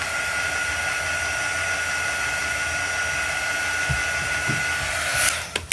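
A hair dryer blows steadily on a Chalk Couture screen, a constant whirring hiss held at even loudness, with a few soft knocks near the end as it shuts off.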